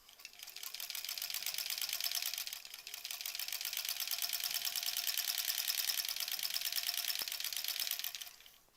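A sewing machine stitches through quilt sashing seams on a granny-squares quilt, a loud, rapid mechanical whir running almost continuously with a brief pause near the start and a faint click late on.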